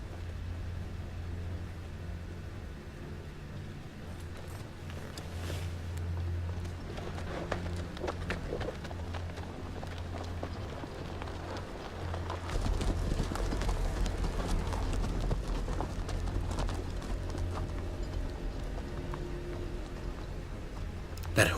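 Hooves clip-clop on the ground as a horse moves in a video game, the steps uneven and moderately close, over a low ambient hum and a few other game sounds.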